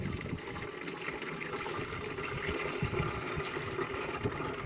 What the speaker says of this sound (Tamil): இப்போ வந்து இந்த சல்லாடை வச்ச மாதிரி தண்ணி ஊற்றணும்.